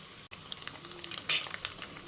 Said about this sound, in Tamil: கடுகு பொரிய ஆரம்பிச்சுடுத்து.